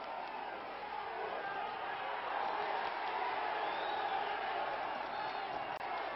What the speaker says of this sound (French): Et la foule est déchaînée.